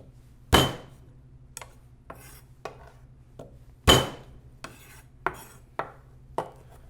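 A knife smashes and cuts ginger on a board: two heavy flat-blade whacks spaced a few seconds apart, with lighter chopping taps between and after them, close and clear with no talk.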